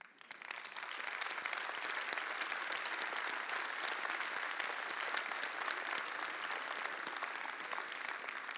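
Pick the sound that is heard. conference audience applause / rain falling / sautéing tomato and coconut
conference audience applause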